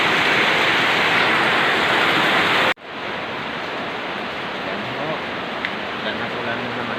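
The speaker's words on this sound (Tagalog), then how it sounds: "Ulan na naman dito sa amin." Heavy rain pours down outdoors as a loud, steady hiss that cuts off abruptly partway through, then continues at a slightly lower, even level.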